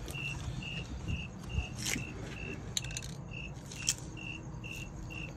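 Steady, evenly spaced cricket chirps repeat throughout, with a few soft clinks and rustles nearby breaking in briefly.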